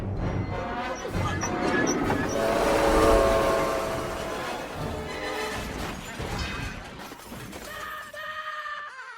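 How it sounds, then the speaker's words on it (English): A night train bearing down in a slapstick chase scene from the animated film Everyone's Hero, a loud rising rumble and rattle with shrill whistle-like tones, swelling to a peak and then receding amid clattering effects. "that scene where Lefty tries to run away from the night train is probably the funniest bit of slapstick in the movie"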